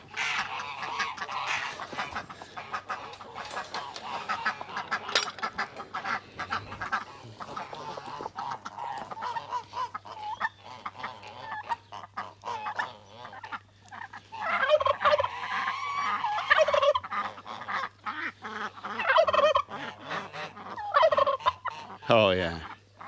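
A flock of geese honks and gabbles continuously, some calls near and loud, others overlapping in the background, with a steady low hum underneath.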